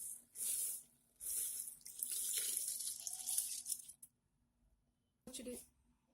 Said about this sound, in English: Now water is boiling, and we are adding rice.